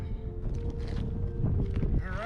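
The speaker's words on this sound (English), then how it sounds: "It's a little bit windy" Steady wind gusting against the microphone outdoors in a California parking lot after a hike, a constant low rumble with a faint voice in the background.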